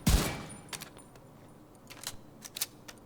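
Rapid rifle gunfire from the video game The Division 2, a quiet string of sharp, separate shots at an uneven pace over a low background hum.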